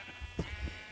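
Sheep in Minecraft let out a couple of short nasal bleats close by over a quiet background hum.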